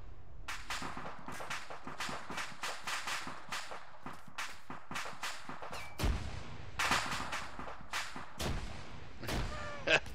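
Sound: shells and gunfire from Arma 3 IFA3 video game

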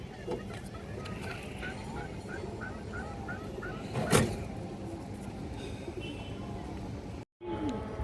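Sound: pair of khaki pigeons cooing

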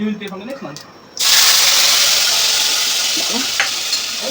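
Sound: whole cumin and spice paste frying in oil in a wok

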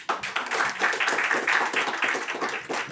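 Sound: audience applause

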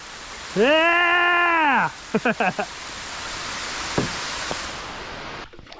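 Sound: rain falling outdoors while kayak camping

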